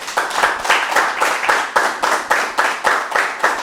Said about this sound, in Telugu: అని గట్టి క్లాప్ చేద్దాం